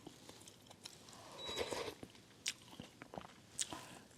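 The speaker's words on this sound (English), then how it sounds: "So if there's a soup, I keep munching." Someone munches food while eating soup, giving soft, close, irregular bites and crunches over a quiet room background, with no talking.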